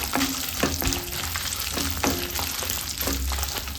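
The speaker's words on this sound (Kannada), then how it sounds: "ಒಂದು ಗಡ್ಡೆ ಬೆಳ್ಳುಳ್ಳಿನ ಹಾಕ್ಕೊಳ್ತಾ ಇದ್ದೀನಿ, ಅದನ್ನು ಕೂಡ ಫ್ರೈ ಮಾಡ್ಕೊಳ್ಳೋಣ" Garlic frying in a pan for a radish and ragi flour breakfast dish, a soft, close sizzle with several sharp stirring taps and scrapes, no talking.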